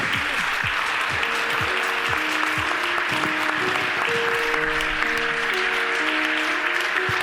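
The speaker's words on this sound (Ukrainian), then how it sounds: "Ваші оплески чудовій колекції" An audience applauds a designer's collection at a fashion show, with loud, continuous clapping throughout while tonal background music plays underneath.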